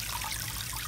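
Rain barrel water pours into an outdoor tub holding guppies, making a close, steady splashing trickle with a continuous bright hiss.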